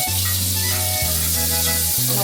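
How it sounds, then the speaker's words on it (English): Butter sizzles loudly in a hot frying pan while French toast is being made, giving a dense, steady crackling hiss with a low hum and a few soft clicks. "Gotta put some butter in the pan."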